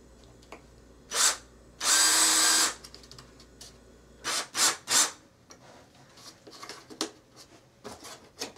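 A power drill drives into a bathroom wall's sole plate in several short bursts, one longer sustained run, followed by lighter scraping and tapping noises nearby.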